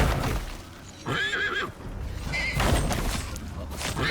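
A horse whinnies in the survival game Icarus, a wavering neigh of about half a second near the start, then a second shorter call, over a steady ambient game background with no talk.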